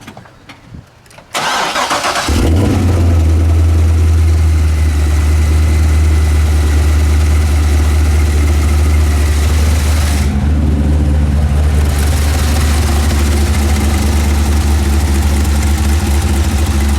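Corvette Z06 engine cranks briefly, fires up loud and close, then settles into a deep, steady rumbling idle that continues unbroken for over a dozen seconds.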